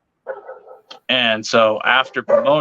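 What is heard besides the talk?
dogs barking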